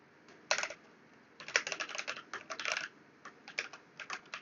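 Bursts of quick clicking keystrokes on a computer keyboard during late-night Rust programming, close and fairly crisp, arriving in short irregular runs separated by brief pauses.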